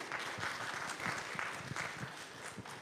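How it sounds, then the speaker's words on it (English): A few congregants at a Sunday worship service clap faintly in scattered, uneven bursts, a thin and distant smattering rather than full applause, with no speech over it. "You can applaud that."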